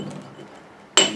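A steel pointing tool strikes a granite block during stone dressing, a single sharp, bright clink close by after a moment of quiet low noise.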